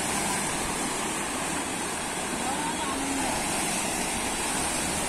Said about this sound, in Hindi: देखो बारिश पानी तो देख कितना आ रहा है भयंकर तरीके से